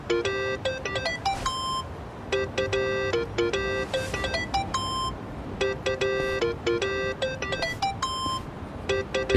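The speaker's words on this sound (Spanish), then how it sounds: "Teléfono, hombre." A telephone rings in Yakuza: Like a Dragon as a repeating electronic melody of bright beeping tones in short bursts, fairly loud over a low background hum, with no talking.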